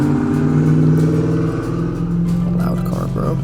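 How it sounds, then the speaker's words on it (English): A loud car passes by outdoors, its engine a steady low drone that holds strong across the whole stretch before easing slightly near the end. "that was just a loud car driving by."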